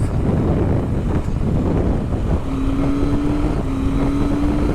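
Vintage Kawasaki motorcycles, a 1976 KZ900, 1974 H2B 750 and 1974 G5 100, ride together with a steady engine drone under heavy wind rush, and a faint whine rises partway through.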